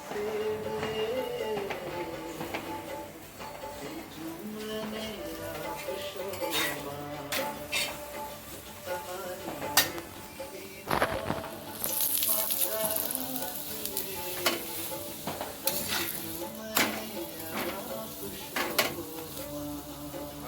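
A paratha cooking in oil on a hot pan, with continuous crackling sizzle and frequent metallic scrapes and taps of a spatula against the pan.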